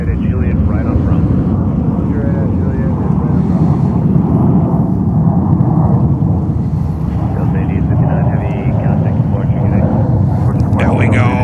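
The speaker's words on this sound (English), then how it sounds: "And that's Delta 767 300." At JFK airport, a Delta Boeing 767-300 airliner produces a loud, sustained jet rumble and roar that holds steady nearby for the whole stretch.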